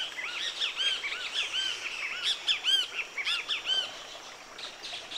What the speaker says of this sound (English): In the calls of the great Kiskadees, talking to us from the kapok tree in the Palo Mulato.